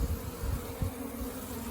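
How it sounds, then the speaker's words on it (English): Honeybees fan their wings inside an open colony during a queen check, a steady, close, dense buzzing hum that swells slightly without pause. "the bees are fanning their wings a lot"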